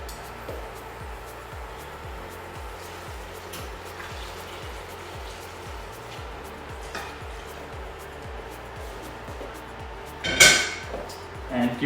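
A spoon stirs fish stock into a seafood chowder in a pot with a steady run of even knocking strokes against the pot, close and moderate in level, ending in a sharper clink and clatter near the end.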